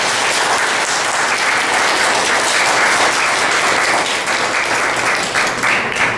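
Audience at a village board meeting applauding a resident on his 80th birthday, a dense, sustained round of clapping from a roomful of people that holds steady for several seconds.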